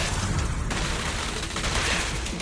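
Rapid gunfire rattles in a dense, continuous burst during combat in Zenless Zone Zero, loud and close with no voices over it.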